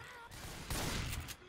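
Gunfire in Left 4 Dead 2 rings out as a dense, noisy burst of shots, fairly faint overall, with a couple of sharper cracks standing out near the end.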